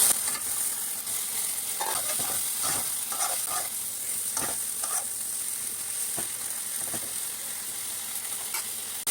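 Paneer, potato and pointed gourd frying in cooked spices for a vegetarian rosha curry, a dense steady sizzle with scattered spatula scrapes and clinks, close and fairly loud, no speech.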